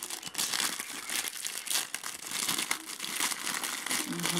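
Plastic wrappers from a parcel of small items ordered from China crinkle and crumple continuously and loudly at close range as the parcel is unpacked, with no talk.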